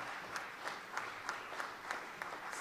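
Continuous clapping from a modest audience at a formal award ceremony, sustained and even, with a faint rhythmic pulse of individual claps standing out across the short stretch.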